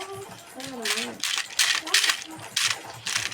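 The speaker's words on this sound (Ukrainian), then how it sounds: "Просто монети по кучі набиваються" Bursts of bright metallic coin jingles pile up in quick succession, mixed with chirpy game tones and a voice speaking underneath.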